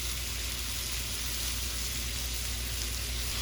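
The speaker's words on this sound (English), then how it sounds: "We want to stir fry this till the shrimp are just done." Shrimp and Chinese sausage stir-frying in peanut oil in a hot wok, a dense, even crackling sizzle filling the whole short stretch, close and steady with no talking.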